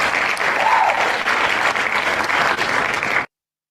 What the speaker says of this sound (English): let's get some applause for Mr. Ronald Vicks